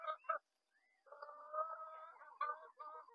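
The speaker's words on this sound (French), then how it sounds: "Les poulets de Bresse, enfin poules de Bresse." Bresse hens in a garden vegetable plot give low, throaty clucks and drawn-out murmuring calls, close and fairly quiet, with short pauses between bursts.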